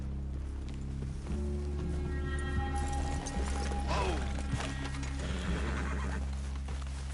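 Horses in the Red Dead Redemption II video game snort and whinny while hooves clip-clop and tack rattles, steady and fairly close over a low game-world ambience, with no talk.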